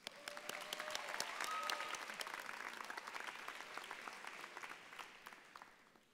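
A room full of people at a graduation ceremony claps steadily for several seconds, a fairly distant, even wash of applause that slowly thins out.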